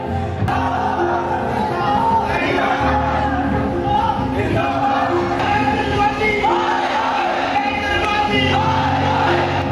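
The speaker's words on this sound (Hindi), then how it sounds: "लोगों ने मेट्रो स्टेशंस के अंदर ही नारे लगाने शुरू कर दिए" Inside a Delhi metro station, a dense crowd chants and shouts slogans continuously, loud and echoing, with voices rising and falling in waves.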